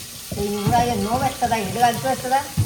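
Fish fries in a pan on a gas stove in a home kitchen, a soft, continuous sizzle heard under a nearby person talking.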